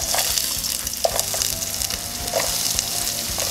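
Garlic and onion frying in a little herb-seasoned oil, a steady bright sizzle with occasional sharper pops and faint stirring scrapes, close and continuous without any talking.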